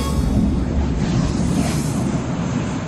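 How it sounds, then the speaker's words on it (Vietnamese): Sea waves surging along the rocky coast of Portugal, a steady broadband roar of surf mixed with wind buffeting the microphone, loud and continuous with no voices. "Đây là biển."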